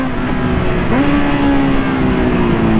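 Honda CB650R 2020 A2 motorcycle accelerating hard in third gear on a twisty road, a loud steady engine note rising in pitch with a brief dip around a shift, close and continuous without voices.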